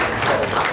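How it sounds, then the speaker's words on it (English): A book launch audience claps, a brief dense patter of hands at moderate level with no gaps. "Yes, you guys can clap for that"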